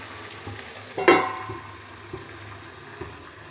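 Curry frying and simmering in a pan, a low bubbling sizzle with a sharp spatula stir or splash near the start and faint clicks after.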